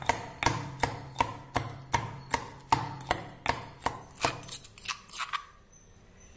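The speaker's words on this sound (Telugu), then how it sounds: "ముందుగా పచ్చిమిరపకాయలు తీసుకొని వాటిని రోట్లో వేసుకొని దంచుకోవాలి" Green chillies are pounded in a stone mortar with a steady rhythm of about a dozen close, sharp thuds, slowing into a few lighter taps at the end.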